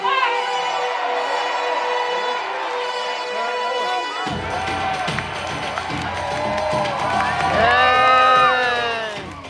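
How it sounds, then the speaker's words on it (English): Crowd at a War of the Roses jousting show at Warwick Castle cheering for House Lancaster, a sustained outdoor roar of shouts and children's voices that swells toward the end. "A cheer for House Lancaster!"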